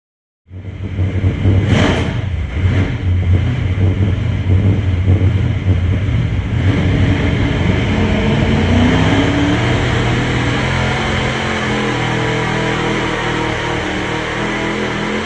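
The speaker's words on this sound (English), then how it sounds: "that's my engine with the Root supercharger" A supercharged big block V8 starts and runs steadily with a deep, loud, rough roar and a faint Roots blower whine rising over it, close up with no voices.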